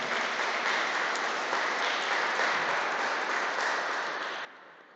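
A congregation at a Sunday Mass in the church of St Martin d'Esquermes applauds an altar server. The applause is a soft, even wash of clapping that stays steady before cutting off sharply near the end.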